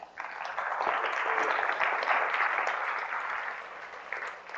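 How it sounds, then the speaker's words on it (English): A conference audience breaks into sustained applause, a dense wash of clapping that swells quickly and holds steady before easing slightly at the end. "And everybody, a round of applause for Jack."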